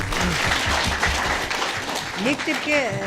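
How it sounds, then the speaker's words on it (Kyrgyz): A crowd applauds, a steady patter of many hands clapping, with a voice speaking over it near the end. "Бир кол чаап коелу"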